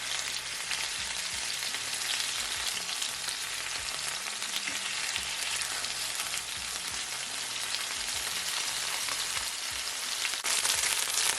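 Chicken breast sizzles steadily in a hot pan, a dense crackling hiss that continues without pause, with no talking.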